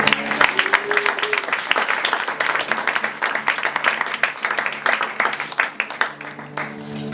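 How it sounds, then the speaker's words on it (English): An audience claps steadily for several seconds, a dense patter of hands that holds fairly even before thinning slightly at the end, with a faint voice underneath. "Please let me give a warm round of applause to my audience accompanist and bestest"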